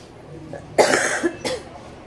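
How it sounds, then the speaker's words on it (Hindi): Two quick coughs from one person, fairly close and loud, with a short pause between them and a quiet background. "बहुत ज़्यादा खांसी हो रही है"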